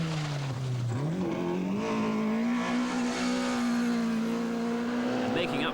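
A Vauxhall Nova rally car driven hard on a 1988 rally stage, its engine note rising and holding high as it accelerates close by, loud and continuous, with commentary talk over the top.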